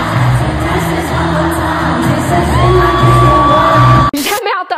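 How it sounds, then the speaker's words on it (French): A packed stadium crowd screams and cheers loudly and continuously at a concert in Québec, a wall of whooping voices that cuts off abruptly near the end. "Jamais entendu un stade crier comme ça."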